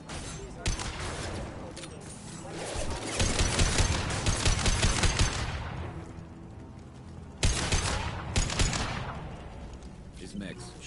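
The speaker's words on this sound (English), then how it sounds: "His mechs shoot without question." Mechs firing guns during a Mass Effect 2 combat sequence, rapid bursts of gunfire swelling and dropping in loud volleys, with dialogue voices talking over the shooting.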